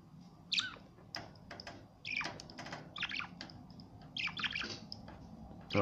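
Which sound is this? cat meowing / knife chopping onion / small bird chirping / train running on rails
small bird chirping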